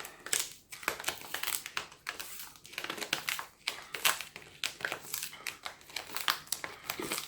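Aluminium foil crumpled and pressed closed by hand over a small emergency cooking pan, a close, loud run of crackling crinkles in irregular bursts with no talking.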